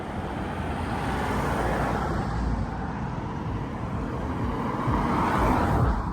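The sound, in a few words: cars passing on a street in Bournemouth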